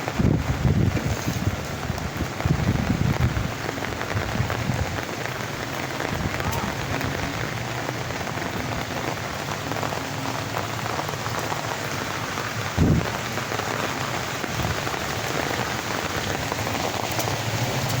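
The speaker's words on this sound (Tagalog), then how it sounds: "Ulan-ulan na naman." Rain keeps falling over a mud-covered, flood-hit area in the Philippines, a constant dense patter of drops on surfaces with some wind buffeting the microphone and a few louder knocks.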